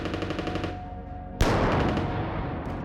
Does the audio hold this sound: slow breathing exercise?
no